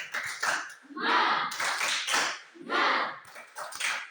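Children in a classroom do a rhythmic spirit clap led by their teacher, bursts of group clapping in a patterned beat mixed with chanted voices, fairly close.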